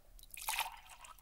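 Water is poured into a cup in a brief close splash lasting about a second, quiet and alone.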